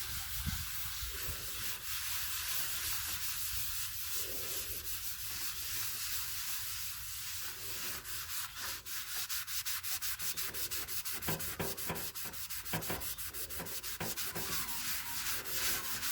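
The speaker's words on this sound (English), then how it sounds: "when you're sanding the guide coat off" Steady hand sanding of guide coat off a Mitsubishi Pajero alloy wheel rubs continuously across the hard surface, turning into faster back-and-forth strokes toward the end, close and alone.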